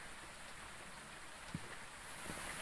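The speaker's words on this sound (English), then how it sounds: "Oh, right, it's raining." Rain falling in the Phasmophobia video game, a faint, steady hiss of rainfall with a couple of soft drops or taps, no voices over it.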